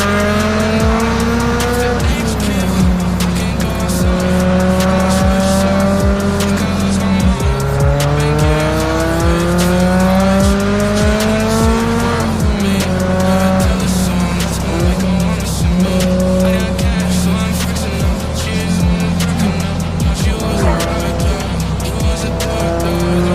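A Subaru BRZ is driven hard around a track with its engine revving up and down through the gears. The tires squeal loudly and almost continuously through the corners, recorded close from inside the car.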